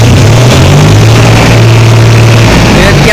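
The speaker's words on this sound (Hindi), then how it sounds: "भाई हम लोग अब ट्रैक्टर की आवाज़ सुनेंगे" John Deere 5105 tractor engine running, a loud, close diesel drone with a slight rise and dip in pitch, continuous throughout.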